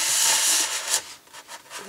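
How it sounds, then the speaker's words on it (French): A very small wood saw works through a piece of wood in a few quick, rasping strokes, close and fairly loud, with no voices. "Je vais peut-être le faire avec la toute petite scie. C'est d'une scie à bois"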